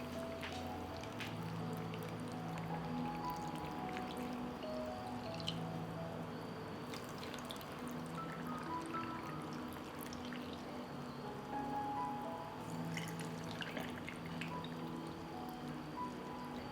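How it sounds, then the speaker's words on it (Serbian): Water pouring and dripping into glass jars filled for homemade fruit compote, a continuous trickling stream with small splashes and drips, close and moderately quiet, with faint background noise and no speech. "I na kraju ću napuniti tegle sa vodom."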